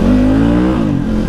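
A new dirt bike engine revs loudly and steadily as the throttle is held open, its pitch holding high, then dipping briefly and climbing again, close and continuous with no talking.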